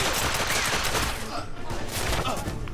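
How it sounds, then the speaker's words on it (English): Dense, rapid gunfire and shotgun blasts in The Order: 1886 video game, a loud continuous barrage of overlapping shots with brief voices mixed in. "fuck the shotguns in this game"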